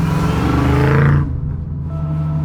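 Holden Torana classic Australian muscle car engine giving a deep, low-torque grumble, loud and close, revving briefly before dropping to a steady idle rumble.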